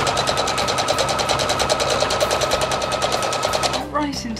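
A sewing machine stitches fabric for a coffee cosy in a fast, steady, even rhythm that runs loud and continuous for about four seconds before stopping, while a voice talks over it.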